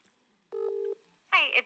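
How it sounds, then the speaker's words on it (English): A telephone is dialed to place a call: a short burst of touch-tone dialing beeps, followed after a brief pause by a louder electronic tone or ring. "Now, I'll make a second phone call really quickly."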